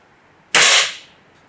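A single sharp, loud crack from a Gamo Wildcat .22 caliber air rifle firing outdoors, close by, with a quick decaying tail and quiet before and after.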